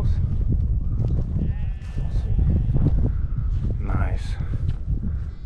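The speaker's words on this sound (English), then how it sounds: "And finally, to say goodbye, we have our blessed sheep." Sheep bleating outdoors at a heritage site in Mostar, Bosnia and Herzegovina, with several wavering calls rising over a steady murmur of crowd noise and nearby talking.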